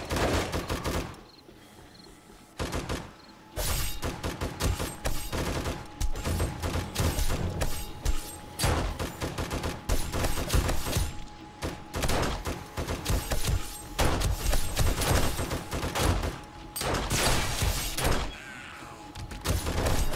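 Rapid gunfire bursts crack out in the VR video game 7 Days to Die with the War of the Walkers mod during a horde night, loud and close, firing in dense volleys broken by short pauses.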